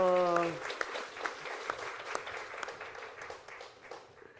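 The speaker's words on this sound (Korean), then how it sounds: "자, 뜨거운 박수로" Applause from a church congregation during a Sunday worship service, a soft dense patter of many hands that follows a brief tone and fades gradually over several seconds, moderately distant.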